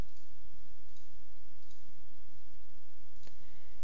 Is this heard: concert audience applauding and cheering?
no